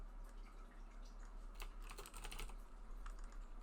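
Quiet, rapid typing on a computer keyboard while writing C# code for a MonoGame tutorial, a close, irregular stream of soft key clicks over a steady low hum, with no talking.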